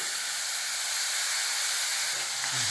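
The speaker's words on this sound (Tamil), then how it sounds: "நல்லா வதக்கணும் வெங்காயம் நல்லா வதங்கிடுச்சு" Onions with a pinch of salt and asafoetida sauté in a pan, filling the moment with a continuous, close broadband sizzle and hiss that stays level throughout, without any talking.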